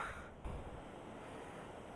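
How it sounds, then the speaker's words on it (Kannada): Steady, loud rush of a flowing river near Kudremukh, a continuous broadband roar with no pauses, close by. "ಹಿಂಗೆ ಹರಿತಾ ಇದೆ ನೋಡಿ ಗೈಸ್ ನದಿಯಲ್ಲಿ"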